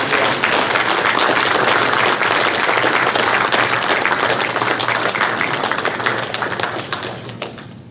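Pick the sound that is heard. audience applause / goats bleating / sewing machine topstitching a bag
audience applause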